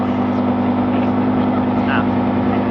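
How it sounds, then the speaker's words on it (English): Lamborghini Huracan with a race exhaust holding a steady, loud, droning engine note close by, continuous for a few seconds with a faint higher tone passing through. "you probably noticed already that it has the race exhaust, and that thing sounds insane."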